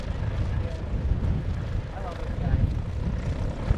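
Propeller airplane making a steep short-takeoff-and-landing approach at the Greenwood Lake airshow, a continuous rough engine drone and rumble under an announcer's commentary.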